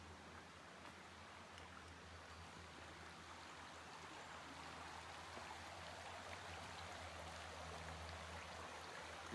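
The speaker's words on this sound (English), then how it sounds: "because of this beautiful little river down here" A small river flows in Hockley Valley along the Bruce Trail, a soft, continuous rushing murmur that is faint and steady with no voices.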